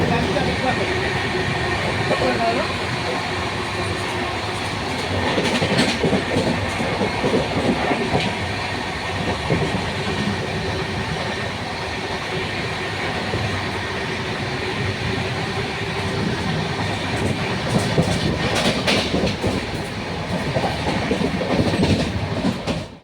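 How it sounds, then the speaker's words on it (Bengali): The Jammu Tawi Express running at high speed, a loud steady roar of wheels and carriage rattling with rhythmic clickety-clack beats throughout, heard from inside the train. "প্রচণ্ড জোরে আওয়াজ হচ্ছে ট্রেনের মধ্যে, ট্রেনটা চলছে প্রচণ্ড স্পিডে"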